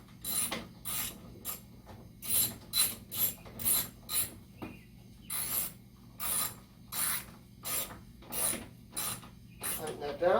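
Repeated ratchet clicks in short bursts while a bolt is tightened on a Scion xB hood, a steady rhythmic series of close, crisp strokes with brief pauses between them, and no talking.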